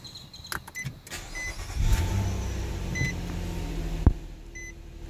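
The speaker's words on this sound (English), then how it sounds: "Wonderful, starting the vehicle." A 2017 Nissan Maxima started with a smart key: soft beeps and clicks, then the engine cranks and settles into a low idle, fairly quiet and close.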